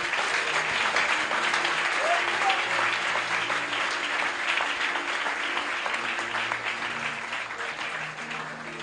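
A congregation applauding at a church worship service, with dense, sustained clapping that holds steady throughout and fades slightly at the end, while voices carry faintly beneath it.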